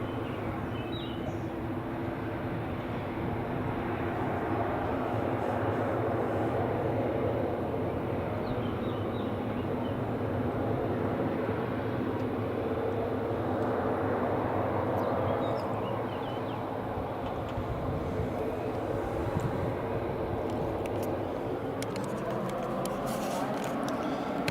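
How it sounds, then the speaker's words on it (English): A TUI airliner taxiing at Madeira Airport, a steady distant jet engine hum and whine that holds for the whole stretch, heard from a hillside overlook with outdoor ambience. "that's the TUI just taxiing"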